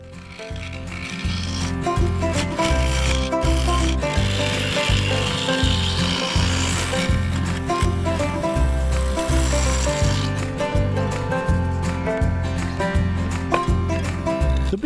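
A mid-sized carbide tool cuts yew wood and epoxy resin spinning on a lathe, producing a close, continuous scraping rasp with a rhythmic low thump from each rotation, with no talking.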